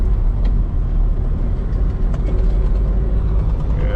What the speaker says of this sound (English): that drive shaft is getting very, very, very sketchy. Sounding a bit scary.